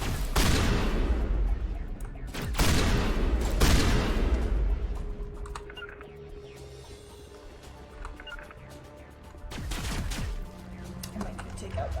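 Shotgun blasts in Mass Effect Legendary Edition, a few heavy, widely spaced booming shots separated by quieter game ambience.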